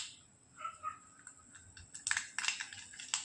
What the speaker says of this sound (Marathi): जिरे छान तडतडल्यानंतर